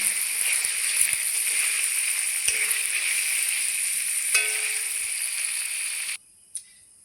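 Paneer frying in hot oil hisses in a steady, close sizzle with a few faint pops, then cuts off abruptly near the end, leaving near silence.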